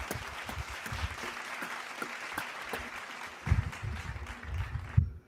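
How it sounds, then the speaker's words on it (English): Applause from a small group on a sports talk show set, a steady spatter of clapping with a few louder bursts near the end before it stops abruptly. "Can we get some round of applause?"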